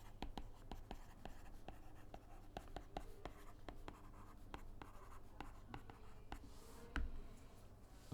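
Pen writing out a probability calculation on paper, a steady run of quiet, close scratching strokes with small taps and pauses, faint and continuous with no talking.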